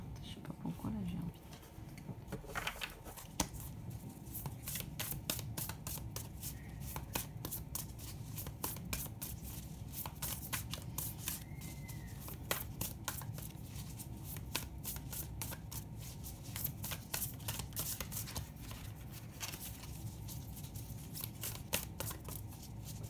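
Tarot cards being shuffled by hand before a card is drawn, a close, continuous rapid riffling and patter running throughout, with a quiet voice heard speaking briefly.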